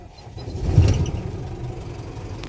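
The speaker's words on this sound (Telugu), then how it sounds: "బండి అయితే స్టార్ట్ చేసాము" A Mahindra Furio 11 BS6 diesel truck engine runs at a steady idle, a close, low mid-pitched rumble that swells briefly near the start and then settles into an even hum, with no voices.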